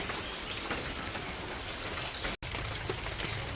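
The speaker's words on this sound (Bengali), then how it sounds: "তো এখন একটু কমছে বৃষ্টি" Rain falls steadily on a village, easing off, as a soft even hiss of drops on surfaces with a brief dropout midway and faint bird calls.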